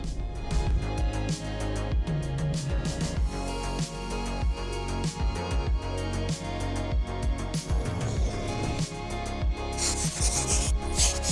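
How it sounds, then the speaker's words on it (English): Carpet lining being stretched and rubbed by hand onto a Vauxhall Vivaro camper van panel, a continuous close scrubbing and rasping friction with dense rhythmic strokes and no talking. "I've just stretched the carpet around, just making sure it's all stuck"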